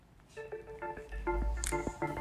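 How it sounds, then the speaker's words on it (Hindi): Telephone keypad dialing: a run of short DTMF tones beeping in quick uneven succession, close and clear over a low background hum, with no talking. "नंबर बन जा रहा है, दोबारा डायल करती हूँ"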